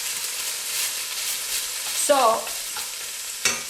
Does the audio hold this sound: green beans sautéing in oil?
yes